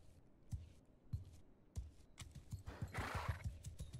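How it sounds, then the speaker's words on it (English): A horse in the Mount & Blade 2 Bannerlord video game gallops with a steady clip-clop of hooves and lets out a loud, breathy whinny partway through, close up with no talking over it. "Horse!"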